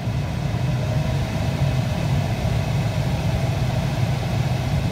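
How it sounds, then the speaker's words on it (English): Strong air rush from the Tesla Model 3 climate control fan set to full, blowing through the wide center dash vent inside the car: a steady, loud, continuous broadband roar with a low rumble underneath, unbroken throughout with no talking. "when you turn it up all the way, you'll be stunned how much air comes out of that giant center vent"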